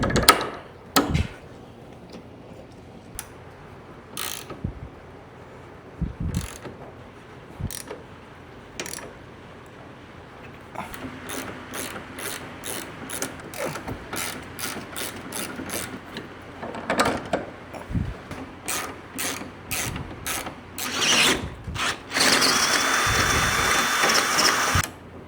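Bolts go into an LED light bracket on a Honda Pioneer side-by-side, with irregular ratcheting clicks and metallic handling close by, denser runs in the second half and a steady whir near the end.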